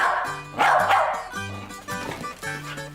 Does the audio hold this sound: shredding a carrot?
no